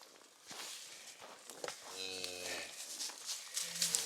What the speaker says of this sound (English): Look at the Texas Longhorn size on this guy.